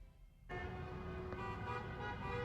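Car horns honk in a sustained, overlapping blare that starts abruptly after a short quiet lead-in, played back from a video and heard faintly at a distance.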